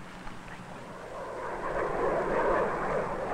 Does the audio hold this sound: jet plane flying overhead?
yes